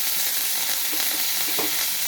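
Curry leaves hit hot oil in a pan and sizzle loudly and steadily, a dense close crackle that holds at the same level with a few soft stirring knocks underneath.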